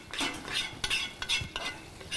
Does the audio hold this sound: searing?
yes